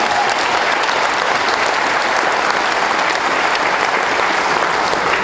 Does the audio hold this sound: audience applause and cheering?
yes